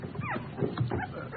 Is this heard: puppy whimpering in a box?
yes